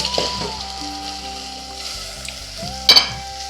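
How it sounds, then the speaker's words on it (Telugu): Mutton sizzles and fries in a clay pot with onion, tomato and green chili, a steady close crackle with a brief louder burst of stirring near the end. "ఇంకా మటన్ అయితే వేసేసుకుంటున్నాను."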